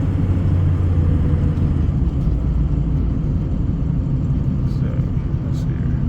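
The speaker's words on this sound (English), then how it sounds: "I know these tires make a little bit of noise" Steady tire roar and low road rumble from a car cruising at 35 to 40 mph on a rear end suspected of bad wheel bearings, a continuous loud drone heard from inside the cabin.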